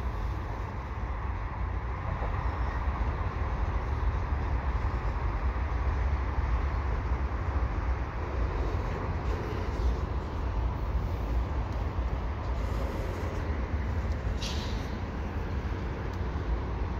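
A long CP freight train rolls past at Dorval with a continuous, even rumble and rattle of wagons that stays steady and moderately loud throughout.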